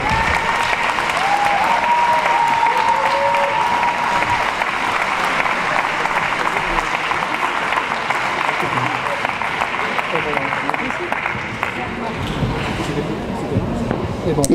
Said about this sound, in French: Donc je crois qu'on peut aussi les applaudir.